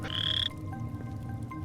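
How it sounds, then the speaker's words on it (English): Frog in Minetest/Luanti, the Luanti game, at nighttime gives a single bright croak near the start over a steady low ambient hum, with no talking. "I heard a frog, it's nighttime"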